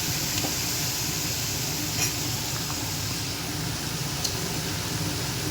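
Mixed vegetables fry in a pan on a home stove, giving a steady, moderately loud hiss of sizzling oil with occasional faint crackles and no talking.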